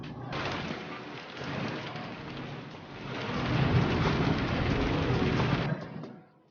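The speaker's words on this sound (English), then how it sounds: "sound of the pouring rain" Steady, heavy pouring rain with a dense wash that swells louder through the middle, with possible low rumbles of thunder underneath, then drops off at the end.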